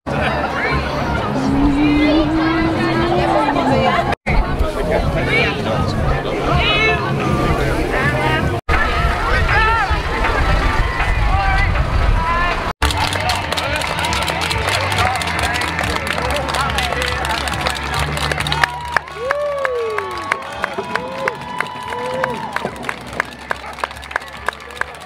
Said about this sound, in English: lots of crowds here